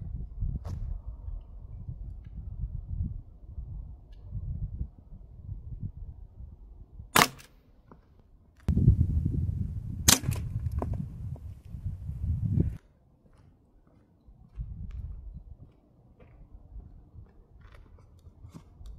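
Umarex T4E TP50 Gen2 CO2 pistol fires two sharp, snapping shots several seconds apart, close and fairly quiet, amid low rumbling handling and room noise.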